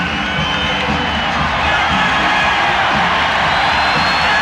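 Dense basketball arena crowd cheering and roaring steadily at a 1994 NBA Western Conference semifinal playoff game in Houston, a loud continuous wash of voices with scattered whoops and yells throughout.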